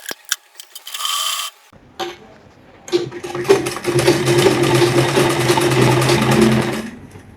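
A sewing machine stitches a strip of fabric onto the edge of a suit, running in a steady close rattling whir for several seconds after some brief handling noises and a pause.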